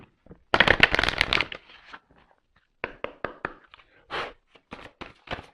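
Tarot cards shuffled by hand in a dense riffling burst, followed by scattered softer card taps and flicks, close and fairly quiet with no talking.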